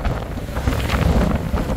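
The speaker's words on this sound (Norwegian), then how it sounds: "Så ser du at det er ganske vindig nå" Strong wind buffets the microphone on a boat trip over choppy water, a continuous loud rushing roar with gusty swells and no talking.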